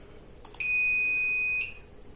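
Alarm from an SPC UVR DVR security recorder sounds once it is activated: a single steady two-tone electronic beep holding for about a second, loud and clear over quiet room hiss, then cutting off.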